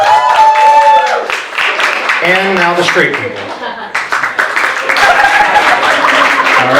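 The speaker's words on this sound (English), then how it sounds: "Can I get a round of applause just for my queer folks?" A comedy show audience claps and cheers, with loud, sustained applause at the start and again near the end as a comedian speaks into a microphone over it.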